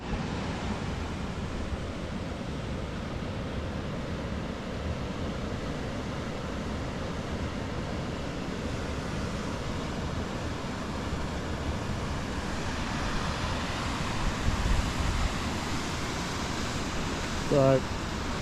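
The Frankland River flowing steadily in the forest near Walpole, a constant broadband wash of water close by with no pauses, fairly soft, and a short voice near the end.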